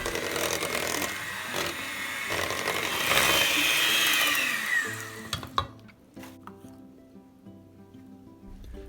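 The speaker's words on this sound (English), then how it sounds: "use your hand mixer to whip them together" Electric hand mixer whipping cooked sweet potatoes in a bowl, a loud continuous whirring churn for several seconds that cuts off, followed by softer clinks and scraping.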